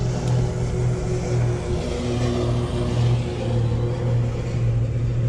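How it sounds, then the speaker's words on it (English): A lawnmower runs near a lakeside fishing dock, giving a loud, steady engine drone with a constant low hum and no talking. "try and get away from this lawnmower"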